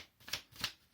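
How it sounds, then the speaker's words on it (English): Thick black paper is handled over a box in two quick, crisp rustles, each a brief papery swish. Both are faint and close, with quiet gaps on either side. "I'm just covering this straight in thick black paper."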